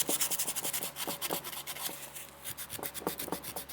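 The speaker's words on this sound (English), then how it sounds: "All right, piece of 220 sandpaper," A car part being sanded by hand with 220-grit sandpaper: steady, rapid back-and-forth rasping strokes, close and moderately loud, with no talking.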